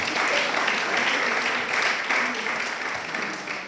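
Applause from an audience for students who took part in a French eloquence competition final, a steady dense clatter of many hands throughout, fading slightly toward the end.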